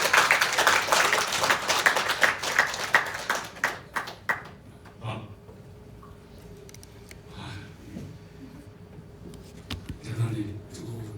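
An audience claps warmly to welcome a speaker at a political lecture event in Jeju. Dense applause fills the first four seconds, then fades into scattered claps and quiet room noise.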